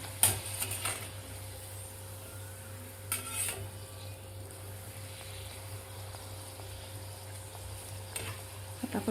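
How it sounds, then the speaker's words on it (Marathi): Mango gharge puris deep-fry in hot oil with a soft, steady sizzle beneath a constant low hum, broken by a few sharp clinks and scrapes of a utensil against the pan. "असा गोल्डन कलर होईपर्यंत आपल्याला हे घारगे तळून घ्यायचे आहेत"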